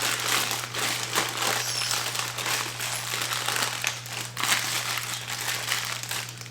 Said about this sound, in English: I just take a gallon-sized bag and put some icing in there.